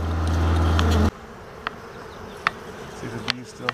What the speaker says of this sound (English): See the bees still swarming around here.